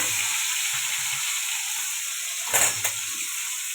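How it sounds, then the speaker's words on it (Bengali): Fish seasoned with salt and turmeric frying in hot oil in a wok, giving a steady close sizzle throughout with a brief louder burst of spatter and stirring near the end. "মাছটা ভাজা হয়ে গেছে"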